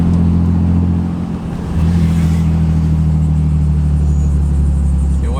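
A 30-year-old naturally aspirated Nissan 300ZX engine runs just after its first start-up, a close, low, steady rumble that dips briefly near the second mark, then settles back to an even idle hum.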